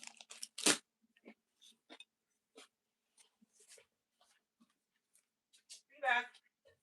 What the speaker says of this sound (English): Sorry, still chewing.